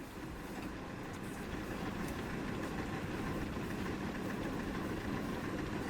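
A caboose drags behind a train in a train simulator video game, giving a steady loud rumbling roar of rolling rail cars with faint clicks on top, continuous and without speech.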